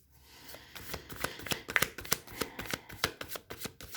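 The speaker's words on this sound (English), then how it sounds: "I'm going to pull out the clarifiers with the Weight Tarot deck" A Waite tarot deck being shuffled by hand, a run of quick papery riffles and card slaps in an irregular rhythm, close and fairly quiet, with no speech.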